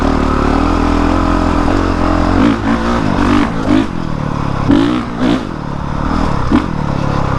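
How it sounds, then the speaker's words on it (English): A Honda CRF450R dirt bike roars loudly and close as it is ridden over roots on a trail, its engine revving and surging unevenly, with clattering bumps and the tire scraping and slipping. "Hitting all these roots while hitting the gas, it's like my tire just wants to slide out."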